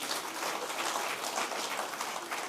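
A church congregation applauds with steady, dense clapping that holds at an even level for the whole moment, with no talk over it.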